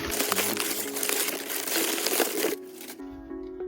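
Packing paper crinkles and rustles loudly as it is pulled out of a package, a dense close crackle that drops off near the end.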